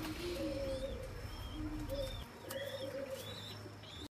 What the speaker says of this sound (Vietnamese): Đây là cặp bồ câu giống đấy anh em này